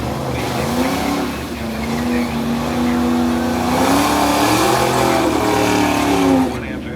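A 1968 Pontiac race car engine drones loudly at a drag race in Union Grove, Wisconsin, a steady rising and falling tone sustained for about six seconds before cutting off, with crowd and announcer noise mixed underneath.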